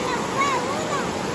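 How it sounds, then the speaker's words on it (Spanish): Flowing water of a river in San Antonio, Suchitepéquez, Guatemala, a broad steady wash of noise that fills the whole moment, with faint tonal whistles riding above it and no clear talk. "acá andamos en un río bien bonito"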